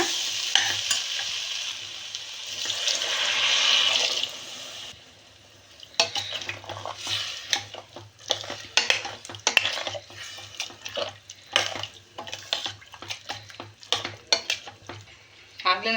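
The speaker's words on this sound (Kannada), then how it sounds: "ಚೆನ್ನಾಗಿ ಮಿಕ್ಸ್ ಮಾಡಿ" A spoon scrapes and stirs green gram curry in a pot with irregular clinks over a soft sizzle, close by, continuing steadily with no talking.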